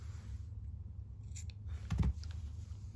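A quiet, quick snip of scissors cuts a long yarn tail while finishing a small crocheted amigurumi pickle, one short crisp cut over a soft room hum.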